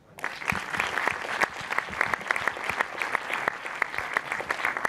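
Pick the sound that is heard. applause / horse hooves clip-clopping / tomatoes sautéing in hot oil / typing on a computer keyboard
applause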